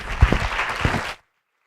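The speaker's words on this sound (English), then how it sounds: "Can we please give them another round of applause?" An audience at an HR ideas event gives its speakers a short, dense burst of clapping that ends abruptly after about a second.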